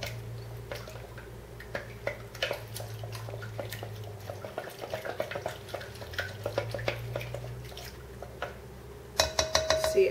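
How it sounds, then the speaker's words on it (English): A utensil stirring melted butter into milk and egg in a bowl, with light irregular clicks and scraping against the sides, a low hum underneath, and a sharper tapping near the end. "Stir it."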